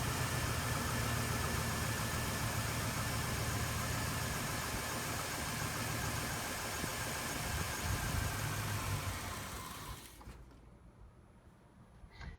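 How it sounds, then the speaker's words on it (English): A car engine runs at a steady idle in a garage during fuel pressure release work, a continuous humming rumble that abruptly drops away near the end, leaving quieter background noise. "I'm going to go ahead and start the car. We're going to let it run."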